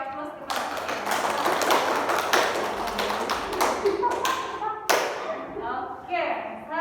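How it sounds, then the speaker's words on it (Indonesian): Applause for a student named Sophia in a classroom session on sterilization and disinfection, a dense wash of many hands clapping for several seconds, fading near the end as a voice begins speaking. "Kalau cukup kita beri aplaus kepada Sophia"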